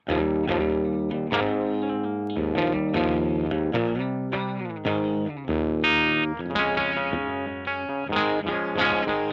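A clean electric guitar, a St. Vincent model played through a Victory V40 amplifier, plays a run of ringing notes and chords, each left to sustain and decay in a roomy reverb, with no voices.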